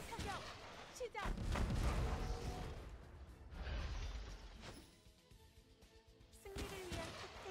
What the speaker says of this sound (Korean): 일제 사격 시작